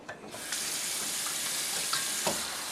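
Canned beans rinsed for chili con carne under a running kitchen tap, a steady close hiss of water pouring into a sink with a few brief splashes and clatters, no voices.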